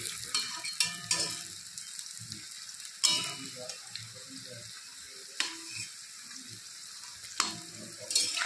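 Red cabbage fritters fry in a pan with a steady close sizzle, broken by a few sharp scraping and tapping knocks as they are turned with a utensil.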